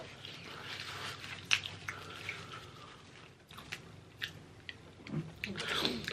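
Close, soft chewing and biting of Mexican food with beans cooked in lard, moist smacking sounds scattered over about six seconds with brief quiet gaps.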